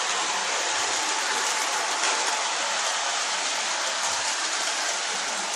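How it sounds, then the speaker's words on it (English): A toy Polar Express train set running on its track gives a steady, close, continuous rolling rattle with no talk over it. "There's the train."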